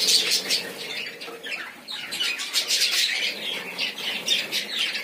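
Budgerigar pairs chirp and squawk busily around eucalyptus-log nest boxes, a dense, continuous twittering chorus close by with occasional faint wing flutters.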